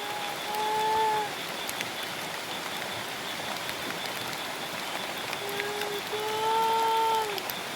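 Rain falls steadily as a continuous hissing wash throughout, with faint tonal squeals over it near the start and end.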